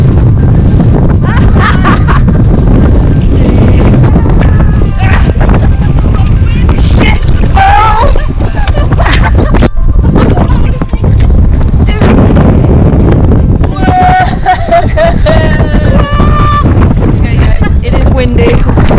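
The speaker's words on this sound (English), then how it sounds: "Windy." Strong wind gusting on a clifftop coastal path in Cornwall, a loud continuous roar buffeting the microphone, with flapping and people talking over it.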